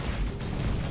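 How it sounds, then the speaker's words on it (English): A cannon shot in the video game Assault Android Cactus: a dense, loud burst of booming, rumbling blasts that fills the whole second with continuous low-end roar. "that first cannon shot was really nice"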